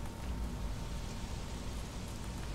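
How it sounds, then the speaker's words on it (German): Steady rain falling in the video game Days Gone, a dense, even hiss of drops on surfaces that runs unbroken and fairly loud throughout. "Wieso regnet es andauernd?"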